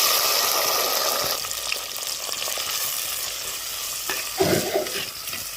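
Onion, tomato, green chili and garlic fry steadily in oil in a clay pot, a close, continuous sizzle with a few stirring scrapes near the end and no talk.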